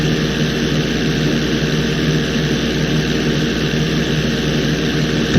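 A plane takes off in the video game GTA V, its engine giving a steady, loud, continuous drone with a rushing noise layer and no talk.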